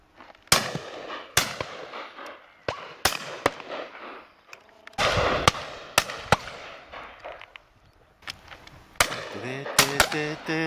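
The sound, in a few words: shotgun shots at pheasant and partridge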